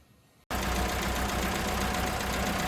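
An Innocenti car with twin carburetors starts up after a brief quiet moment, then idles loudly and steadily, running rough and uneven on a rich mixture, close by with no talking.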